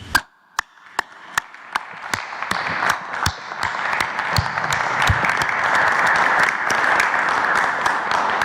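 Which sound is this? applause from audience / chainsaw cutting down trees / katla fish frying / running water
applause from audience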